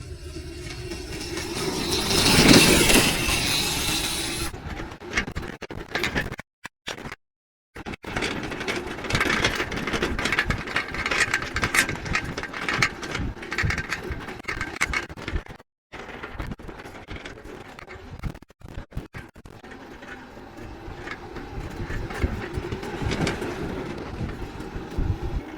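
Homemade battery-powered go kart running at speed, a continuous rattling mechanical whir of chain and gears with brief dropouts, steady and fairly close.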